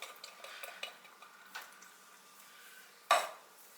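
Chili beans stirred in a metal pot, with scattered light scrapes and clinks of a spoon against the sides and one sharper metallic knock near the end.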